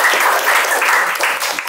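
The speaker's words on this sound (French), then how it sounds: "mais applaudissez pour ces enfants-là." An audience at a book reading event claps for a group of children who read aloud, a short burst of dense, loud applause filling the room without any speech over it.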